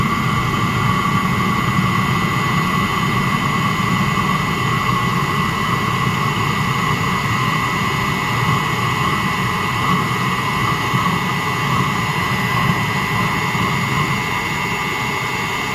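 A diesel heater burns off its remaining unburned fuel after the fuel pump is switched off at shutdown, producing a loud, steady, continuous roaring whoosh with a faint tonal whine, close and unchanging throughout, with no talking.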